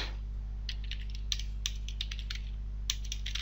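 Test code is typed on a computer keyboard in quick, uneven bursts of crisp key clicks, close and clear over a steady low hum, with short pauses between runs of keystrokes.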